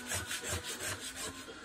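Softened dyed enduido paste scraped off a stencilled lid with a tool after wetting, giving a steady series of rasping strokes, about five evenly spaced, close and moderately quiet with no voices.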